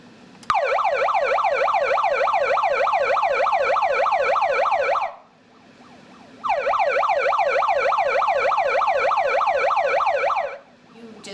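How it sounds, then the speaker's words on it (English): A loud, piercing personal safety alarm wails in rapid rising electronic sweeps, stops for a moment, then starts again just as loud. "But when you turn it on siren, it automatically goes on."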